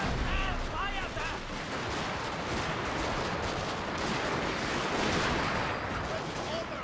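Line infantry volleys in a historical battle game, booming rolling musket fire and distant artillery-like blasts amid shouted commands and battlefield voices, continuous and dense.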